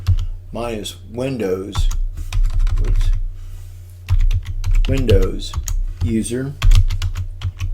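Keys clack in rapid bursts on a computer keyboard as a name is typed at a logon prompt, close and crisp, with someone speaking between and over the keystrokes.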